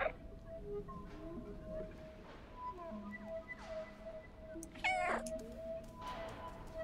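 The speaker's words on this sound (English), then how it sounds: "I like how it meows through cutscene." A cat meowing in the video game Stray, its calls sounding several times over a quiet game soundscape with sustained tones, including one loud, rising meow partway through.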